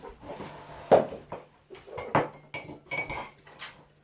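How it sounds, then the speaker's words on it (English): Egg being whisked in a bowl while mixing pancake batter, with several sharp clinks of metal utensil against the dish and scattered scraping and knocks, close and fairly loud, no talk. "You whisk the egg then."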